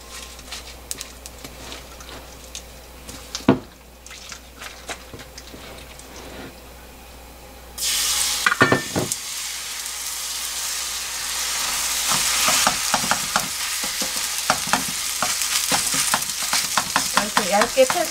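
Korean pepper pancake (gochujeon) frying in a generous pool of oil in a pan, a steady sizzle that swells louder partway through, with scraping and stirring clicks over it.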